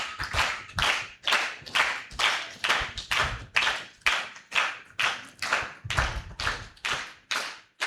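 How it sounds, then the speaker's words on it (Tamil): A church congregation at a children's Sunday service claps together in a slow, even rhythm, about a dozen loud, distinct beats, with no talking. "கைத்தட்டுங்க."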